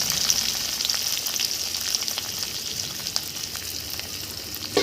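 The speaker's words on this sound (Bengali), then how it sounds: "তেল গরম হয়ে গেছে, এবার কাঁচা ঝাল আর পেঁয়াজটা আমি একটু ভেজে নেব।" Green chili and onion fry in hot oil for a bitter gourd (karela) bhaji, giving a steady, close sizzling crackle that runs the whole time with no voices.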